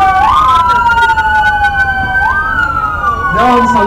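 Police patrol cars sound loud, close wailing sirens that sweep up and down continuously at a street event in Venustiano Carranza, with other siren tones joining near the end.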